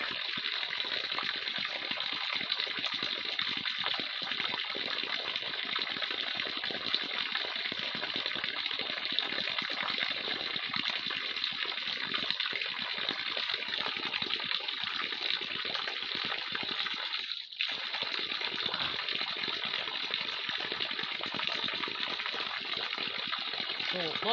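Water gushes steadily from a spring high in the mountains, making a continuous broadband rush that stays loud and even throughout, with a brief dropout near the end.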